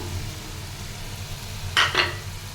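Fried hilsa fish heads go into a bottle gourd curry in a pan, giving a steady low sizzle and bubbling background broken by two sharp, brief scraping stirs of a utensil near the end.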